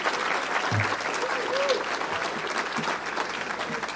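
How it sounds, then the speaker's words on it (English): Crowd applause for the chair at a State of the Economy event, sustained dense clapping from an audience with a faint voice briefly rising beneath it. "Can we give our chair a round of applause?"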